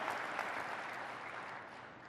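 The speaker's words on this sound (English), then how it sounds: "So just so you know, you should clap for yourselves." A conference keynote audience at Cisco Live 2022 APJC applauds in a broad, even wash of clapping that tapers slightly toward the end, heard fairly faintly from a distance.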